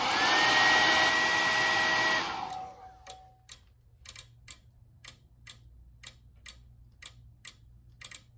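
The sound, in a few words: hair dryer heating a heat detector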